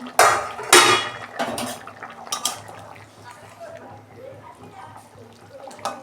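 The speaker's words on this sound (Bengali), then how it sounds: "ঢাকনা খুলছি।" A metal lid lifted off a pot of simmering vegetarian dal with papaya and potato gives two sharp clanks near the start, followed by softer scattered clinks and faint bubbling.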